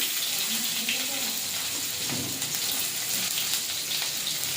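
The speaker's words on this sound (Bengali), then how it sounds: "পেঁয়াজটা ভাজা ভাজা করে দেবো।" Steady, close crackling sizzle of chopped onions frying in oil in a pan, continuous and even throughout with no pauses.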